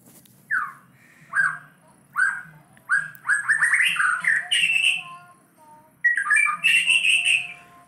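A bird sings in bursts of bright, whistled phrases with a slightly hoarse edge, close and fairly loud against a low background hum, with short pauses between the song phrases.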